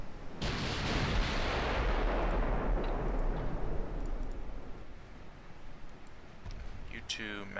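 Heavy naval gunfire in the warship battle game Ultimate Admiral Dreadnoughts: a loud, booming salvo that rolls into a long roaring rumble and slowly fades, with brief clicks near the end.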